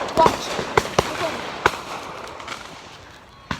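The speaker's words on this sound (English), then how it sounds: "These is good fireworks." Large fireworks bursting outdoors: a handful of sharp, loud booms at irregular intervals, each trailing off into a crackling rumble, with a final bang at the end.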